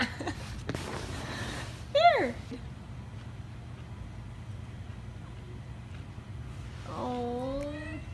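A pregnant cat gives two short whining meows, the first at about two seconds and a longer one near the end, faint over a low steady background hum.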